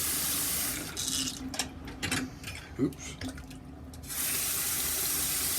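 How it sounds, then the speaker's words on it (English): Hot water gushes from a household tap at its hottest setting to warm a razor, a steady hiss that breaks into uneven splashes midway before resuming full flow, with a brief spoken exclamation. "I'm gonna pour some hottest water that my tap will do"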